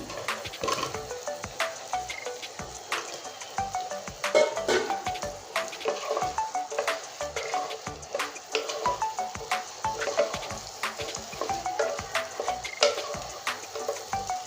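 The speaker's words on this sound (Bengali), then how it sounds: "আলুটা মশলার সঙ্গে কষিয়ে নিয়েছি" Fried potato chunks stirred into a turmeric-laced spice paste in a pan for a Bengali fish curry, with steady clattering spatula scrapes and taps over a soft, continuous sizzle, close and moderately loud.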